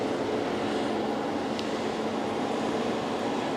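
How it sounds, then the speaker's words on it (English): Steady broadband roar of an airliner landing at Geneva Airport, a continuous engine rush heard from a distance with no talk over it. "there's a plane landing"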